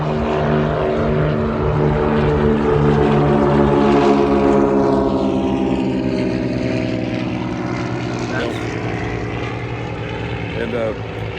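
Airplanes departing from runway 27 at the Oshkosh airshow, a loud droning propeller engine roar whose pitch sweeps downward as it passes close by and then recedes, with people talking over it.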